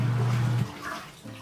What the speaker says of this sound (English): So it's still filling the tank, and then we'll just wait till it gets to the next cycle